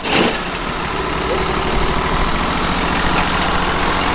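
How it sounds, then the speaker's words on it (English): A sawmill engine cranks over and catches, then settles into a loud, steady, rumbling idle that holds close by. "I'll probably choke it and just crank it over"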